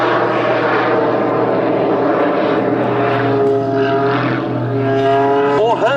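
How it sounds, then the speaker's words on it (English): A steady, loud drone from a jet-powered Pitts S-2S biplane at an air show, with a whining, jet-like tone throughout, shifting pitch slightly as it passes. "the sound of a biplane making jet noises is just something else"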